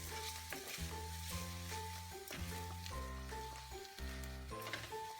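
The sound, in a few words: rice grains crackling while toasting in oil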